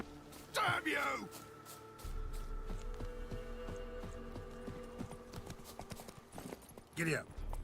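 Horses gallop in The Witcher 3: Wild Hunt with a rhythmic clip-clop of hooves under a low hum, as a voice shouts briefly at the start and again near the end.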